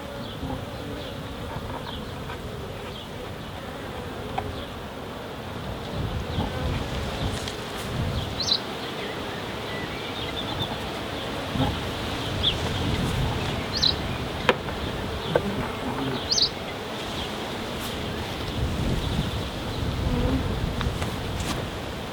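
A steady low hum of many honey bees buzzing around a hive nearby, continuous throughout, with occasional faint clicks and rustles.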